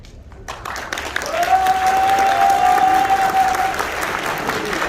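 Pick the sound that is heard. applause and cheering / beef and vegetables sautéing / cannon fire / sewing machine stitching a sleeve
applause and cheering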